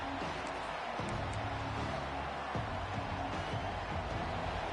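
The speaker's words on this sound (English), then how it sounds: "This crowd bringing the energy and noise early" A stadium crowd in an American football video game makes a faint, steady murmuring roar that carries on evenly in the background.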